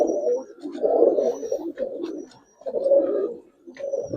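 Pigeons of a silver giribaz breed coo in deep, throaty rolling phrases, two or three bursts separated by brief pauses, close and fairly loud, with a faint chirp or rustle now and then and no talking.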